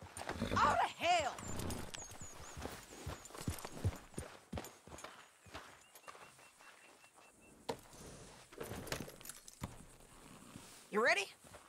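Steady clip-clop of horse hooves in Red Dead Redemption 2, with a brief whinny near the start and end, mixed with voices talking over the top.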